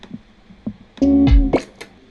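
A few small plastic clicks, then a short mechanical hum and clunk as a cassette deck door opens, followed by more light clicks.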